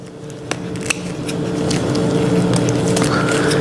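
Scissors trimming a holiday craft project, giving a steady crisp rustle of snipping and shredding paper-like material with a couple of sharper clicks near the start, close and continuous.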